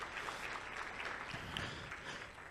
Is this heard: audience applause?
yes